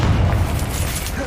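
A Confringo blast spell in Hogwarts Legacy lands as one loud, booming explosion up close, its rumble fading quickly over about a second.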